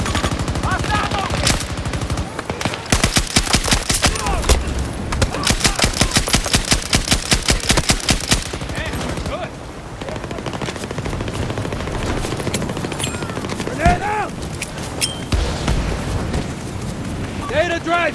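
Battlefield 2042 gunfire in a hazard-zone orbital extraction match: loud rapid automatic bursts rattle for several seconds, then scattered shots and impacts follow under excited shouted voices.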